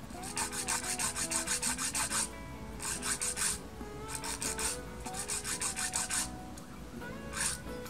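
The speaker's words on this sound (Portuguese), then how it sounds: "agora eu vou fazer mais um lixamento aqui na ponta para retirar essas ondulações que podem ter ficado no top coat" A nail file sands the top coat at the tip of a nail, giving close, rhythmic rasping strokes in several bursts with short pauses between them.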